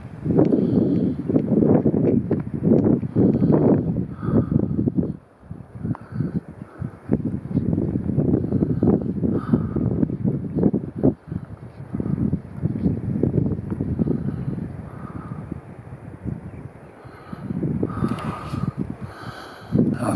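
Wind gusts across a mountain lake at Upper Sweeney Lake, buffeting the microphone as a steady low roar with brief lulls, close and fairly loud throughout.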